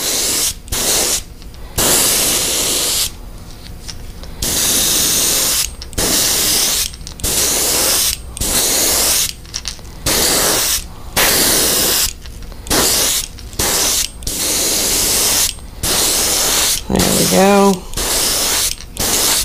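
Airbrush spraying pearl paint onto a fishing lure in repeated hissing bursts of one to two seconds, separated by short silences, with a brief ratcheting click near the end, loud and close.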